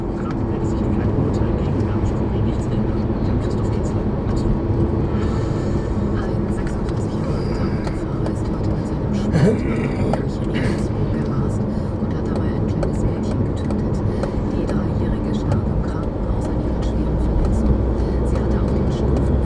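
Steady low rumble of a car rolling along slowly at the Austrian border crossing, with road and engine noise filling the whole stretch and faint voices murmuring underneath.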